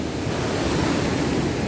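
Steady wash of ocean waves at Vung Tau Back Beach at sunrise, a continuous loud roar of surf mixed with wind buffeting the microphone, with no voices.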